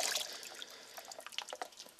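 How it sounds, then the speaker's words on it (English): Etched Damascus steel being rinsed in warm water, a quiet trickle with scattered soft drips and splashes, close by and faint. "Then I'm going to rinse it again, and I like to rinse in warm water"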